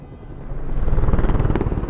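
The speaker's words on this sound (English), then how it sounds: "Helicopters and everything." Loud helicopter rotor thudding in The Last of Us, a close, rapid, rhythmic chop that swells over two seconds with no voices.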